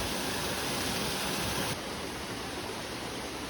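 A waterfall roars in rain-soaked mountain bush, a steady, dense rush of water that stays loud and close throughout, with no voices.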